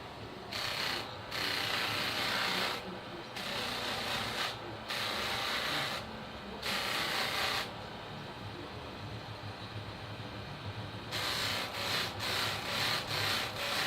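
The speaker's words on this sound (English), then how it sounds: "now we need to buff and polish it back to a mirror" Scissor blades are buffed and polished to a mirror finish after being reconvexed, giving a steady abrasive rubbing whir in repeated passes with brief pauses between them, close and moderately loud.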